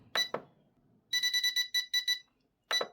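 Electronic alarm tone from a T12D transmitter set up to control an LD-B20C: a rapid series of high, clean beeps in short bursts, close and loud, with a few clicks before and after.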